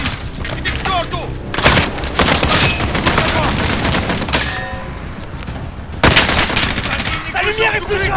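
Machine gun fire rattles in bursts during a Call of Duty Modern Warfare firefight, loud and near, mixed with booms and shouted voices in French.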